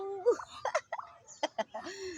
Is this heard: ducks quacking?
yes